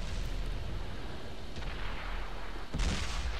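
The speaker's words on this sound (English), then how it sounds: "Takes a shot at me, misses, and I finish him off." Tank cannon fire in the World of Tanks video game on the Lakeville map, with an M46 Patton in the fight: a steady rumbling battle din, a faint blast midway and a louder, booming shot near the end.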